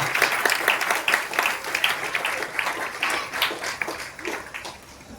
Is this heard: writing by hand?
no